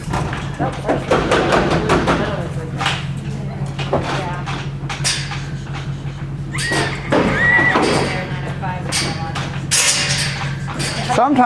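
Horses shut inside a trailer whinny and thump against its walls, the neighs rising over a low steady hum while people talk nearby.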